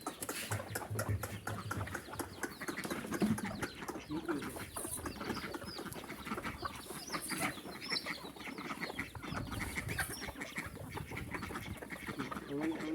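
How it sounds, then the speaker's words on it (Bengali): Desi chickens on a small Bangladeshi farm kept beside cattle and ducks, a flock of about forty: a dense, steady outdoor bustle of clucking and rustling birds that continues for the whole stretch, with faint voices underneath. "তো এগুলো হচ্ছে আমাদের দেশি মুরগিগুলা।"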